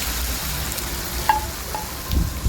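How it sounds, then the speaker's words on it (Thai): A cha-om (acacia leaf) omelette fries in hot oil in a pan, giving a steady, close crackling sizzle with a few sharper pops near the end, and no one speaks. "เราก็ตั้งกระทะใส่น้ำมันลงไปเลยนะคะ ให้น้ำมันร้อนเราก็จะเอา ไข่ชะอมลงไปทอดเลยนะคะ"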